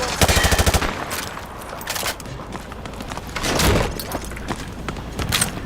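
Gunfire through light cover in the video game Modern Warfare 2: a rapid automatic burst opens loudly, followed by scattered heavy shots and thuds at mid distance.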